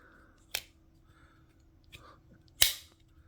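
A Cold Steel folding knife snaps open, giving two sharp, close metallic clacks about two seconds apart, the second louder, over a quiet room.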